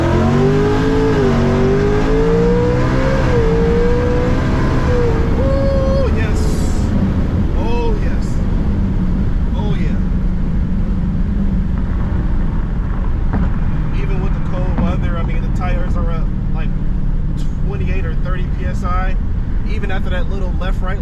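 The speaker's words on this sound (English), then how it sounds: "I just want to see how the car does from a dig." A supercharged 2024 Mustang GT with a Whipple blower launches hard from a dig, the V8 engine roaring and rising in pitch through the gears, loud and close from inside the car, with supercharger whine and tire noise.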